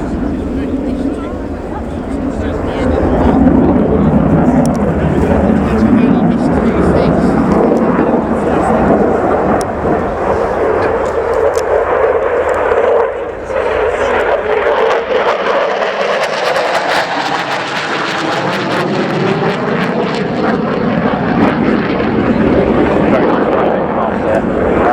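A Belgian Air Component F-16A jet performing a flying display at an airshow roars continuously overhead, a loud broad rumble that shifts in pitch as the aircraft passes, while a commentator talks over it on the public address.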